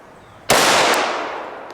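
A single sharp shot from a Glock 41 longslide .45 ACP pistol cracks out loud and near, its echo decaying over a second or so.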